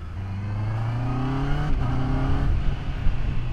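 Middleweight sportbike engine, an Aprilia Tuono 660 or Honda CBR650R on stock exhaust, revving hard and close as the auto-blipper fires quick throttle blips through gear changes, with steady engine drone and no talking.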